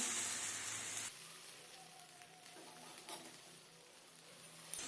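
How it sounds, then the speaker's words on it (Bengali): Soaked, drained rice being stirred and fried in hot ghee, a soft steady sizzle and patter that starts louder and settles into a quieter crackle, with no talking. "এবার ভালোভাবে চেড়ে নেব ভাজতে হবে চালগুলো ঘিয়ের মধ্যে"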